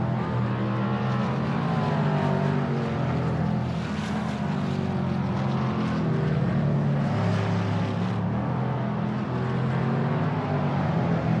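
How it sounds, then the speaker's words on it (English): A Shelby Mustang GT350R race car in a racing video game, driving at Willow Springs, its engine droning steadily and loudly throughout with no voices over it. "That ASRL Shelby Mustang GT350R looks good driving through Rabbit's Ear"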